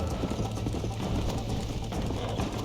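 Horse hooves gallop in a video game, a steady rapid clip-clop over a low rumbling game soundtrack, fairly loud and continuous throughout.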